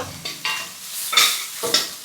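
Sautéing in a pan with vigorous stirring, several loud bursts of sizzling and spatula scrapes in a quick irregular rhythm, close and with no voices.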